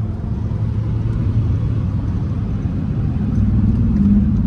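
A car's engine roars steadily at high speed during a rolling drag race between a stock Honda Civic and a tuned Mercedes A200d, a loud, continuous rumble rising slightly at the end.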